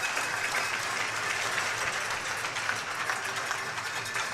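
Both benches of hockey players clap steadily for an injured player at a junior game, a dense, even patter of applause in an arena, with no talk over it.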